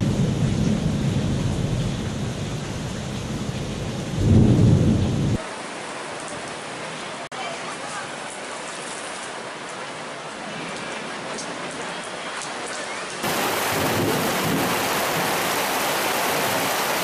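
Heavy rain pours in Hyderabad during a severe thunderstorm, a dense steady roar of rainfall with a louder burst of rumbling thunder early on, continuous and without talk.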